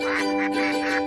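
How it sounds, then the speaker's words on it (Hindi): A duck quacks repeatedly in a steady rhythm at close range, each call loud and clear over a constant background drone, with no talking. "आपने आज तक कभी बत्तख को गाना गाते हुए नहीं देखा होगा।"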